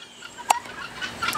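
Guinea fowl call outdoors in a snowstorm, with one sharp, brief squawk standing out over faint, scattered chatter.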